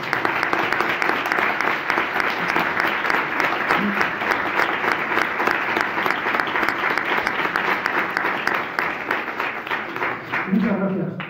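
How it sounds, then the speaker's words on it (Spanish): A theatre audience at a tribute event for Ana Garzón applauds warmly for over ten seconds, the dense clapping sustained and fairly loud with faint voices mixed in. "Y un fuerte aplauso para ella."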